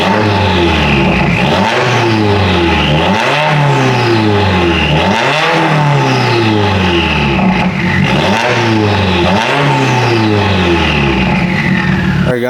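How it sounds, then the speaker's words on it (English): Subaru WRX engine fitted with a Grimmspeed V2 J-pipe exhaust, revved repeatedly in loud rising and falling sweeps, about six pulls over a steady close idle rumble. "we're gonna get some revs in here"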